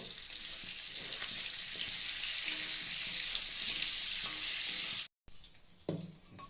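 Potatoes in hot oil with salt and turmeric give a loud, steady sizzle for about five seconds. The sound stops briefly, then returns with soft stirring scrapes.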